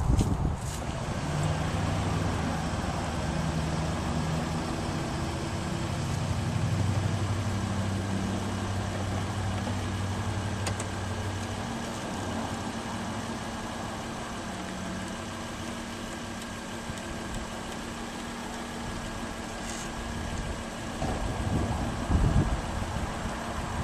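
A 2008 Volvo C70's 2.5-liter engine idles with a steady low rumble for a long stretch, fairly close and unchanging, with no talking.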